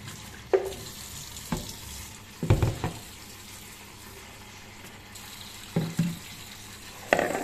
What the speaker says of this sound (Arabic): نشطفه شطفه تاني علشان ما يبقاش فيه تراب